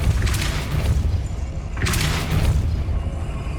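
Depulso spell cast in Hogwarts Legacy, two heavy booming force blasts about a second and a half apart, each with a bright whooshing burst over a deep rumble, loud and close.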